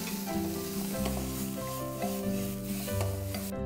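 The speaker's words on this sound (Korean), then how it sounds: "마늘에 지금 바글바글해지고 있어요" Garlic and mushrooms sizzling in a pan: a steady, close sizzle with faint stirring rubs, running continuously over tonal music in the background.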